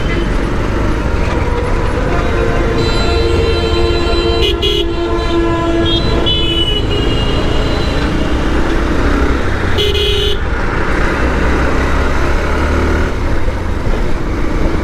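Congested road traffic at Choumuhani crossroads in Noakhali, with a continuous engine rumble and repeated loud horn toots from nearby vehicles, some long and overlapping.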